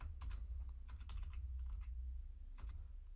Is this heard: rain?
no